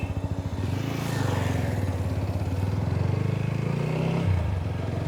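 A TVS Apache RTR 200 BS6 motorcycle engine runs while riding, a close steady pulsing thrum that rises slightly in pitch then drops near the end, with no talk.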